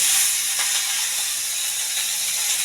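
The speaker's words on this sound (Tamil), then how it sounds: "இப்போ வரமிளகா, கருவேப்பிலை எல்லாம் இதில் சேர்த்து" Dried red chillies and curry leaves hit a hot pan of oil for spicy kozhukattai, giving off a continuous, bright, close sizzle and hiss that stays fairly even from start to finish.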